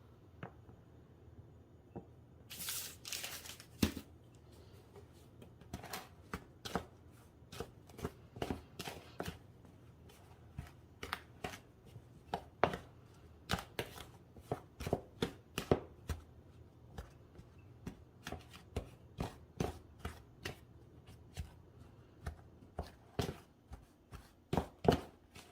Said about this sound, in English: we're gonna mix this in until this whole thing gets a little bit crumbly